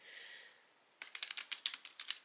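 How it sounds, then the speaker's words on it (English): A small deck of playing cards is riffle shuffled after a soft rustle, producing a quick run of about a dozen crisp, close clicking flutters as the cards interleave, faint and alone. "so you can shuffle the whole deck. And probably rifle it as well."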